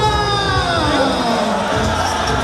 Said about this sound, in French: Léon XIV fait son entrée à l'esplanade du stade de Japoma devant des milliers de fidèles en liesse